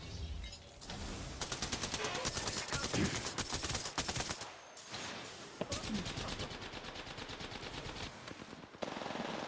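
Rapid automatic gunfire in Apex Legends rattles in long dense bursts, loud and close, with brief pauses between volleys and a few single shots.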